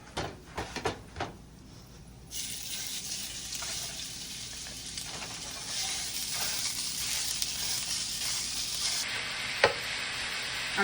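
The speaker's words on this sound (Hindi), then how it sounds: "अभी हम मिन्स मीट डाल देंगे" Minced meat (keema) dropped into a hot pan with golden-brown garlic for tacos and burritos: a few short clatters, then a loud, steady hiss of frying that carries on unbroken, with no voices.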